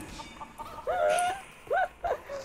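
Minecraft chicken clucking in a fantasy survival multiplayer game, three short warbling clucks: one longer call followed by two quick bursts, fairly loud and close, with no talk over them.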